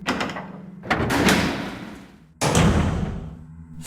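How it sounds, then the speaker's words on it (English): A door is pushed open as a sound effect in an audiobook, a heavy creaking sweep followed by a second surging push, two broad bursts close by with no talking over them. "Jill grabbed the handle of one of the doors and pushed it open."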